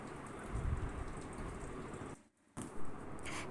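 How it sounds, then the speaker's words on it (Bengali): Ghee sizzles in hot oil in a cooking pan while paneer butter masala is prepared, a soft, steady crackling hiss that briefly drops out before resuming. "এবার ওই তেলের মধ্যে কিছুটা ঘি দিয়ে দিচ্ছি"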